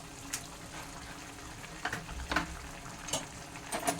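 Chicken with salt, garlic paste and ginger paste sizzles softly in a frying pan while a spatula scrapes and taps the pan in intermittent strokes, close up and without speech.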